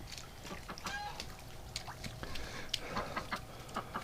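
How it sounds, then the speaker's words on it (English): Ducks being readied for a barn on a frigid winter day give a steady run of quacks and honks, close and overlapping, with a faint background of other bird calls throughout. "Man, ducks crack me up."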